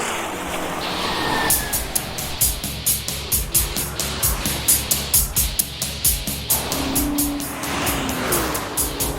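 Race cars competing on the Peninsula Manazuru course in the MF Ghost anime, a loud engine roar with a fast, regular pulsing beat of repeated revving as the cars run close together.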